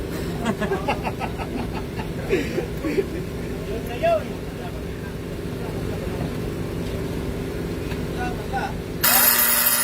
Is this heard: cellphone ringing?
yes